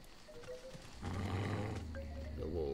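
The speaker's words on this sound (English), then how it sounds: "The wolves and the wind chimes." Wolves howl and growl in the fantasy game Ember, rising from a quiet start into a fuller, sustained animal cry, with faint tonal chimes of wind chimes ringing through the soft, distant ambience.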